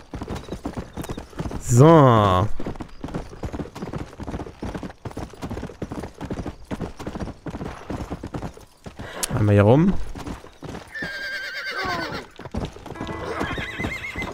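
A horse in the video game Red Dead Redemption, with steady clip-clop hoofbeats throughout and two loud whinnies, one early and one late, under someone talking.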